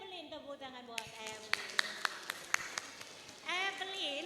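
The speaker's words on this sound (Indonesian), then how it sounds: "tepuk tangan buat Evelyn." Scattered clapping at a school gathering at SMA IT Alfurqon, applauding a student named Evelyn; a handful of distinct, spaced claps between stretches of speech, sounding near and fairly sparse rather than a full crowd.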